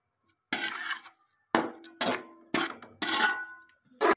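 A spoon clatters and scrapes in a pan as walnuts and almonds are mixed into makhandi halwa, five distinct metallic bursts of stirring separated by short silences.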